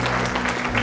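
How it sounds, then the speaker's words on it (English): New teachers in an audience at a morning speech on emotional intelligence applaud themselves, steady dense clapping filling the room throughout, loud and close. "give yourselves a round of applause for being here this morning"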